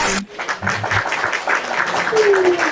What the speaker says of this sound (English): give us a round of applause for the great scientist